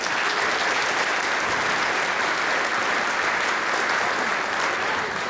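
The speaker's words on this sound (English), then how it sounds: "Can you give them a round of applause?" Steady, sustained applause from an audience at a 5th grade band performance, a dense wash of clapping that stays even and full for the whole stretch.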